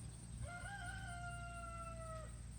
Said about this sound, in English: This is our chickens in here.